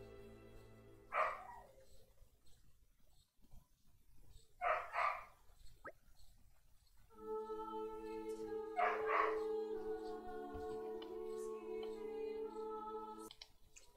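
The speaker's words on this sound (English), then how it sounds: "Sorry if you hear barking." A dog barks in short bursts, a few separate yips and barks spaced apart, heard over a steady tonal background of game music with a held chord in the latter half.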